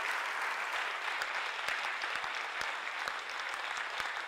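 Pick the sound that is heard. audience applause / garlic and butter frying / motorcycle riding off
audience applause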